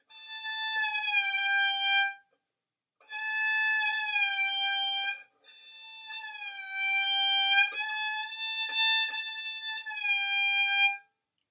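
Violin notes played in three phrases, the pitch sliding smoothly between positions as fingers and hand shift, clear and solo.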